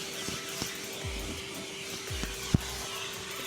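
Vacuum cleaner drawing dust from a car's interior during cleaning, a steady whining drone with a few soft bumps and one sharp knock of the nozzle against a surface.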